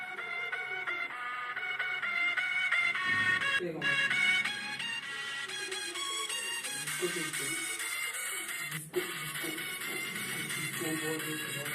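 Music with a steady beat and bright, busy tones plays through a 4G tablet's small built-in speaker, with a couple of brief dropouts.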